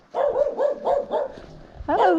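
A dog on a hillside road along the Camino Inglés barks close by, giving a quick run of four or five sharp barks, a short pause, then one more louder bark.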